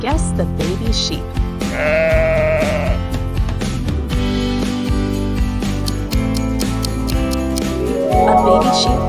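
A sheep bleats in several loud, wavering cries, heard over cheerful background music.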